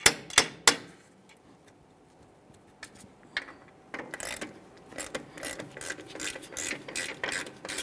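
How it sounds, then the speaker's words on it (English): A 12mm wrench works rusted mounting bolts loose on a 1994-2001 Dodge Ram 1500. A few sharp metallic taps come first, then after a quiet stretch come close bursts of rapid ratcheting clicks. "it's time to remove our 2 mounting bolts here. For these bolts, I'll be using a 12mm"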